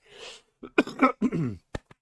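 A few harsh, close coughs and throat-clearing bursts in quick succession, ending with short sharp hacks.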